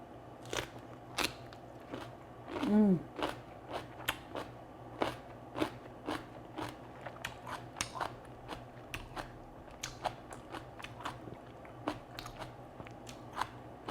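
Rinsed kimchi cabbage crunched and chewed up close, with crisp, wet bites at an uneven steady pace and a brief hum near the start, no talking.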